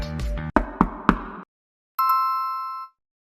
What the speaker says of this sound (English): he would suddenly receive an ominous knock on his door